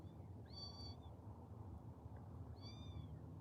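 Cats meow faintly from somewhere above, two short rising-falling calls a couple of seconds apart over a steady low background rumble.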